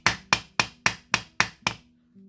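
A jewelry hammer strikes a hard surface seven times in a quick, even rhythm, each sharp metallic tap ringing briefly, close and clear with no talk.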